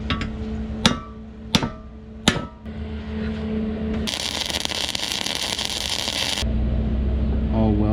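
Three sharp, loud metallic hammer blows strike a BMW E30 subframe being reinforced in a garage, spaced under a second apart, followed by a steady harsh hissing buzz that stops abruptly.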